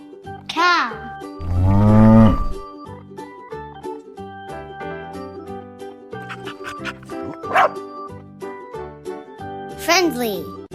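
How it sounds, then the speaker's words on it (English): A cow moos in a low, drawn-out call lasting about a second, set among a voice and other short animal-like calls in a farm animal learning sequence. "Cow."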